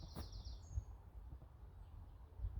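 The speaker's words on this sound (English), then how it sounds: "listening to birdsong, recognising the blackbirds" A single bird call chirps briefly near the start over soft woodland ambience, with faint rustling and low rumble.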